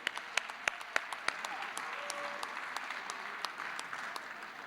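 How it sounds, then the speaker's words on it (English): Applause from the audience at a 2013 trivia bee, dense steady clapping with sharper individual claps poking through, held at moderate level for the whole stretch. "Let's have a round of applause for our 7 championship teams."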